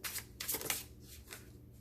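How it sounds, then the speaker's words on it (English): An overhand shuffle of a tarot deck gives several quick papery riffles and card slaps in short bursts, close to the listener and with no voice over them. "That's the card that jumped just now after I was shuffling it."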